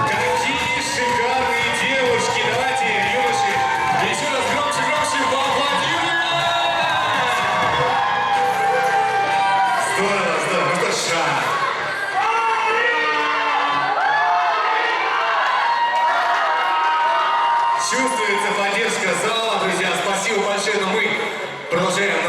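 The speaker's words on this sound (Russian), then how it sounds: "Давайте, юноши, еще раз громче поаплодируем!" Whooping, cheering and applause from a crowd at a university pageant, Miss and Mister BSU 2019, rise and fall as a steady wash of shouts with a voice speaking over the noise.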